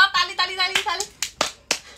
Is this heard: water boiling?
no